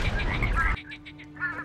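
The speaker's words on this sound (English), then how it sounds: "Those are really loud frogs," Frogs croaking in the video game Skyrim: loud, repeated rasping croaks in quick succession that continue after a sudden drop in background noise, with a steady tone under them.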